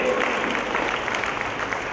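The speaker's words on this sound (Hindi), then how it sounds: "मैं आपकी ये ताली की आवाज ये मान लूं कि आप राम को पसंद करती हैं" Audience clapping at an International Women's Day gathering, a dense steady patter of many hands filling the whole stretch, fairly loud and continuous without a clear voice on top.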